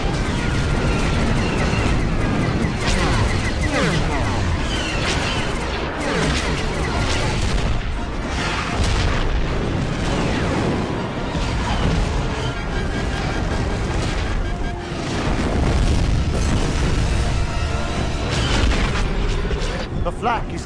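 Dense, continuous barrage of booming flak explosions and blasts in a Star Wars: The Clone Wars battle over Geonosis, loud and unbroken throughout, with voices shouting over the din.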